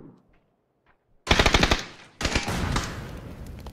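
Rapid bursts of automatic gunfire in PUBG: Battlegrounds erupt after a near-silent start, with one long rattling volley followed by another sustained burst, loud and close.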